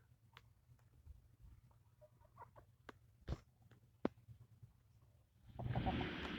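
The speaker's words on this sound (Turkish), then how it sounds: "Bir de şu kırmızı olan horoz. Diğerlerinin hepsi tavuk." Quiet, scattered clucks and short calls from hens and roosters over a low hum, followed by a burst of louder, noisy rustling near the end.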